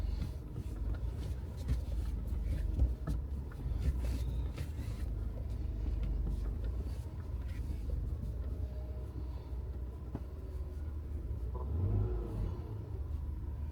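A car engine runs after a hydraulic power steering pump replacement, a steady low rumble with slight rises in revs, moderately loud and continuous throughout.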